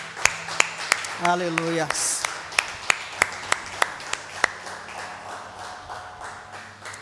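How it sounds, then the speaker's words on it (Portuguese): A church congregation claps in praise, a row of sharp, evenly spaced claps that fades out after a few seconds while a voice speaks over them. "Você pode dar uma salva de palmas ao Senhor?"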